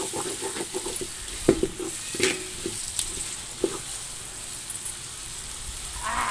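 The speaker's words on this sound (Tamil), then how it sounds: "கிளறி விட்டுக்கலாம்." Chicken biryani masala is stirred in a pot over a rooftop wood fire, giving a soft steady sizzle with intermittent metallic scrapes and clinks of the spoon against the vessel. No one speaks.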